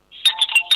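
A telephone ringtone chirps in a few quick melodic bursts, loud and close, during a Thai radio dharma call-in program, with no one talking over it.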